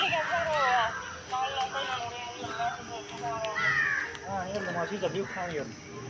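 A crow caws in an open outdoor area near a playing ground, its harsh calls mixed with nearby people talking.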